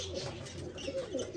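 Domestic spinner pigeons coo softly nearby, a few low, rounded coos repeating over a brief moment with faint background noise.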